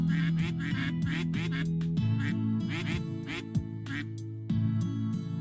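Ducks quack in a video game, a busy run of rapid, nasal quacks in overlapping bursts over a steady droning musical background, continuous for several seconds.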